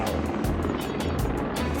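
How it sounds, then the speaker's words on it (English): Helicopter rotor thudding steadily in the Himalayas near Khumjung, a loud, close, rhythmic chop with regular beats filling the whole clip, no talk over it. "Get to the chopper now."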